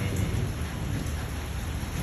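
Steady downpour of rain with a low rolling rumble of thunder, loud and continuous, recorded outdoors while a magpie robin bathes in the rain; no voices.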